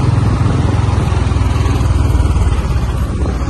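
A Bullet motorcycle engine idles close by with a deep, steady thumping pulse, loud and even throughout on a Kathmandu city street, with no talk over it.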